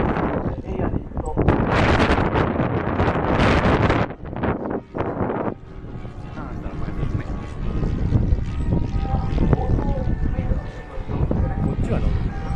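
Strong wind gusting across the microphone at a warbird and scale model airplane meet, a roaring buffeting rush that rises and falls, with people talking throughout.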